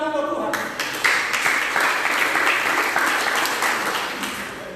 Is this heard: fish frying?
no